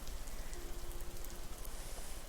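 Rain patters softly and steadily on an attic skylight, a dense, faint hiss of drops with no other sounds.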